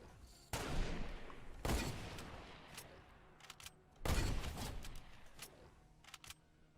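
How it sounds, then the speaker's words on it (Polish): Gunfire in Fortnite, loud bursts of shots at about half a second, 1.7 seconds and 4 seconds, each ringing out and decaying, with scattered quieter shots in between and no talk. "Strzelają."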